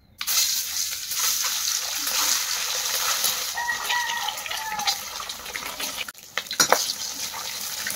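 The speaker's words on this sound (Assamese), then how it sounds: "ডিমকেইটা ধুনীয়াকৈ ফ্ৰাই হৈ গৈছে" Eggs frying in hot mustard oil in a wok give a loud, steady sizzling crackle throughout, broken by a brief dip and a few sharper spits near the end.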